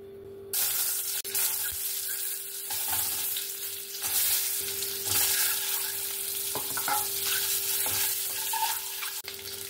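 Boiled eggs hit hot oil mixed with turmeric and salt and burst into a loud, constant sizzle that holds for several seconds, with occasional stirring knocks over a low steady hum.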